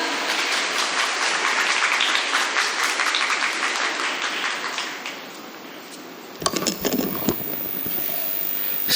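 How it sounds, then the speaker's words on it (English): Audience applause at a school investiture ceremony for the outgoing school leader, a dense sustained crowd clapping that fades out after about six seconds, followed by scattered sounds. "Please give a huge round of applause for our outgoing school leader, Laksh Valia."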